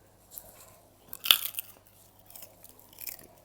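A raw garlic clove is bitten with one sharp, close crunch, then softer chewing follows in quiet, intermittent bursts. No voices are heard.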